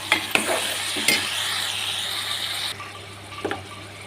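Potatoes and eggplant stir-fried in a pan give a steady, close sizzle with scraping stir strokes and a few clinks, alone with no voices.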